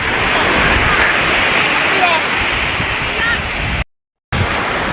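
Steady, roaring wash of sea waves crashing nearby under overcast, rainy weather, dense and continuous, with a brief dropout near the end.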